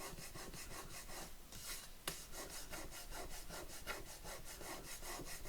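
Steady rhythmic rubbing strokes as excess glue seepage is rubbed off a shabby vintage journal cover, a close, quiet scraping back-and-forth that repeats evenly throughout.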